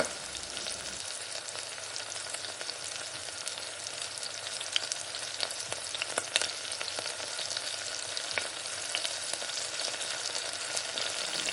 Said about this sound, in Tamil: இப்போ நம்ம வடித்த சாதம், ஆற வச்ச சாதத்தையும் கொட்டி நல்லா கலந்து விடுங்க